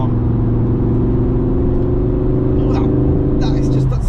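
A Ford Focus RS mk2 with standard exhaust and about 7k miles pulls hard in sixth gear, giving a steady, loud, droning engine note heard from inside the cabin throughout, with faint tyre and wind rush.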